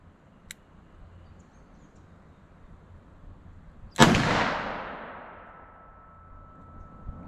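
A single loud gunshot from a .45 Colt revolver firing Liberty Civil Defense ammunition over a Garmin chronograph, a sharp crack followed by a long decaying echo, with a faint tick earlier in the quiet.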